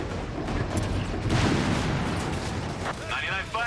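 Battlefield gunfire in the World War II strategy game Company of Heroes 3, with steady dense bursts and heavy booms rolling together, loud and continuous throughout.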